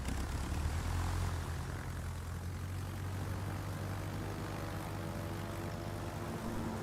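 Enemy aircraft drone overhead in a naval video game, a steady low propeller-engine hum that stays moderately loud and unchanging, with no voices.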